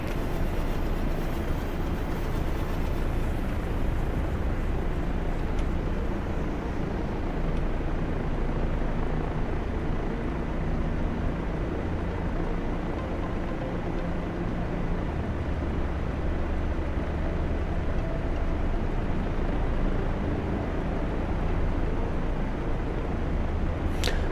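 An aircraft engine drones loud and continuous for the whole stretch, a dense rumbling roar that holds steady with no clear rise in pitch.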